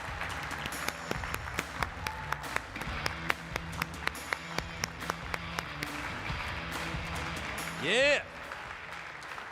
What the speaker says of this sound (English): nice big round of applause